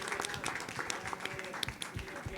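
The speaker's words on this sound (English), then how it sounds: "I think we should have a round of applause for all of us, so let's do that." Brief applause from people at a League of Women Voters meeting, scattered claps under a murmur of voices, moderately close and short.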